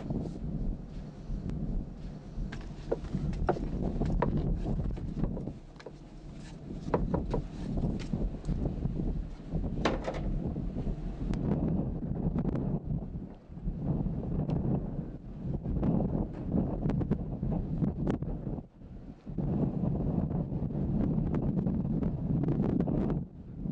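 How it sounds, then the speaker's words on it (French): Wind rushes and buffets outdoors for a long stretch in uneven gusts, rising and dipping with brief lulls, close and noisy against the microphone. "Il y a un moment où tu dois sentir le vent dans les deux oreilles."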